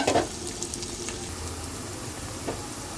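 Chicken biryani masala with mint frying in a pan, a steady close sizzle with a few stirring scrapes, the loudest at the start.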